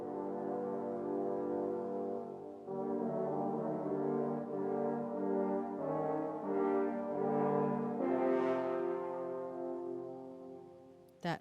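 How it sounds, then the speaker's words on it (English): French horn section playing the menacing wolf theme from Peter and the Wolf: a sustained, dark brass chord that swells and shifts through slow held notes, rich and full, with no voices. "That menacing sound you hear is the French horn section."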